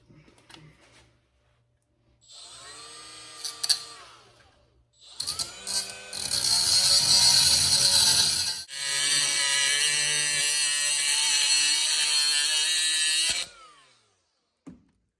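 An angle grinder grinds the factory hook off a logger's tape measure in loud, close bursts of harsh metallic whine, a short stutter first and then two long continuous passes before stopping.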